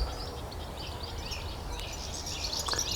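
A woodpecker calls from a tree: faint, distant high chirps over a steady outdoor background, growing a little busier toward the end.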